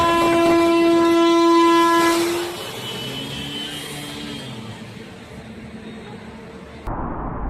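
A passenger train's horn blasts loudly for about two seconds, then the rumble of rail cars rolls on through a gridlocked intersection, ending in an abrupt loud jolt as the train hits a stranded semi-truck.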